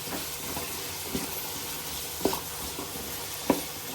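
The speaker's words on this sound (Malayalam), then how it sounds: "ഇനി ഇതിൽ കിടന്ന് നല്ലപോലെ ഈ എണ്ണയിൽ കിടന്ന് വേകട്ടെ." Sliced onions frying in oil with salt, a steady soft sizzle with a few brief stirring clicks and taps over it, fairly quiet and close, no voices.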